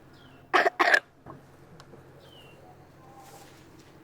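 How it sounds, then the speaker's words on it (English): After a deep breath, a girl gives two sharp, close coughs back to back, followed by a faint exhale and quiet room sound with no talking. "Cough."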